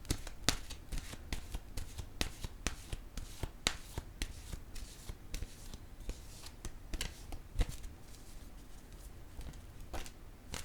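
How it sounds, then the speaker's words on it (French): Oracle cards being shuffled by hand, a rapid series of soft, crisp riffling snaps repeating steadily, quiet and close, with no talking over them. "Je vais piger maintenant une carte de mon oracle de l'âme intuitive"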